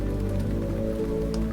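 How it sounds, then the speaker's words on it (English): Gentle rain patters in a soft, steady wash with a low constant hum underneath, faint and even throughout with no voices. "the gentle sound of rain"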